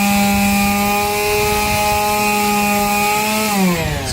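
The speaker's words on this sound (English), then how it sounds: "I've got a nice little palm sander, but it's a fairly big job" A palm sander smooths wooden furniture parts with a steady, loud, continuous whine that holds level, then dips in pitch near the end as pressure or speed changes.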